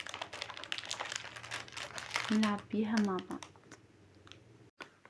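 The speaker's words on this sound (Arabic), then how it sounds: "هنشيل الكرتونة كده، يلا هنفتحها نلعب فيها مع بعض" A cardboard box for a frog toy game is handled and pulled open with close crinkling, scraping and light clicking while a voice talks nearby.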